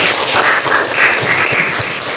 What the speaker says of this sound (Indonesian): Tepuk tangan sekali lagi untuk kalian